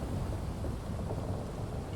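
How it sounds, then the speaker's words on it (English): Heavy rain and a rolling thunder rumble from a storm in the video game Final Fantasy XIV, a dense, loud, continuous wash with no voices. "Oh, it's raining. Stormy."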